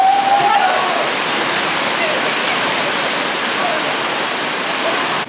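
A rushing mountain stream pours steadily, with a loud, unbroken roar of water that fills the whole stretch without pause.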